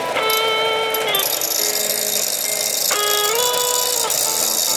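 A power sander grinds the edge of a steel hunting arrow tip held in vice grips, giving a continuous loud whining, ringing grind with pitch shifts as the tip is pressed and lifted, with no talking.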